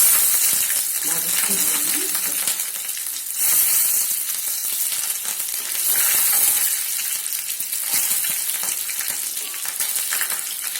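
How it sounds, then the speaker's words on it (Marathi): Mustard seeds sizzle and crackle in hot oil for a tadka for soft rava dhokla: a loud, steady frying hiss runs throughout with small pops and slight swells in intensity. "मोहरी टाकूया. मोहरीचा म्हणजे थोडं जास्त टाका मोहरी."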